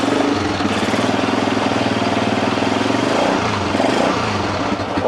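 Lifan Earth Dragon 125 engine running with no choke and no air filter, a loud, steady idle with a dense rhythmic chug and open intake rasp throughout, alone without voices.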